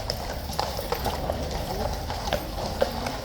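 Hooves of a King's Guard horse clip-clop on pavement in an uneven trot, moderately close amid crowd murmur and a voice talking over the outdoor scene.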